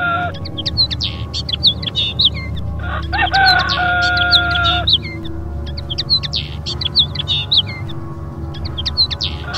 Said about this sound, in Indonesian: Ayam malas padha kluruk lan manuk-manuk padha ngoceh.